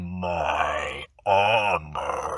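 A deep, rasping growl voiced by a person imitating a red dragon, drawn out in two long bursts split by a short pause, then a third beginning, loud and close.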